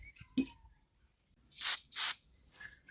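Two loud, short bursts of spray hiss as compressed air or fluid blasts through the ports of an old tractor being rebuilt, preceded by small clicks and handling noises.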